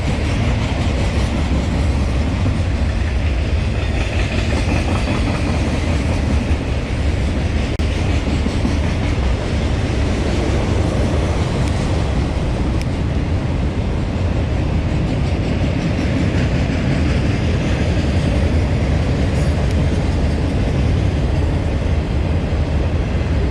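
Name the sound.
long freight train passing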